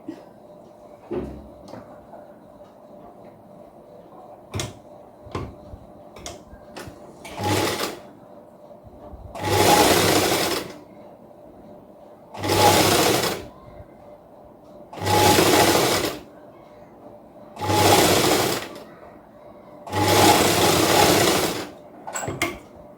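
A sewing machine hems a folded blouse edge in five or six short bursts of fast whirring, each a couple of seconds long, separated by quiet gaps with faint handling clicks.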